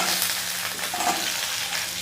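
Two large onions sautéing in a pan for a spicy chutney give a steady, close sizzle with a soft crackle that holds evenly for the whole stretch, with no voices.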